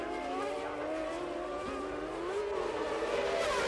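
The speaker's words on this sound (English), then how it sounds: "the Tyrrell of Ukio Katayama spins right in front of him" Formula 1 race cars howl on track during a 1994 Grand Prix as a Tyrrell spins, a continuous high engine whine with shifting pitch under a busy, noisy broadcast backdrop.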